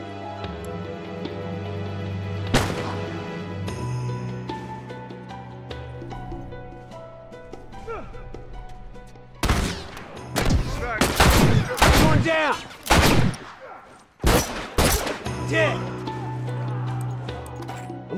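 Rifle and other gunfire in The Last of Us Factions multiplayer game: a few isolated shots early, then dense bursts of rapid shots and fusillades in the second half, loud and close over a steady in-game background hum.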